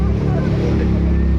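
A motorboat engine drones close and steady during a boat ride near the Vijay Mallya tower, its low throbbing hum mixed with wind rush across the microphone.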